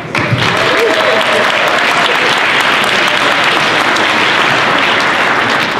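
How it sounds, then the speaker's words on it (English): A large audience claps loudly and continuously, a dense, even wall of hand claps that holds for several seconds without breaks. "this is a part of the program where we do a lot of clapping"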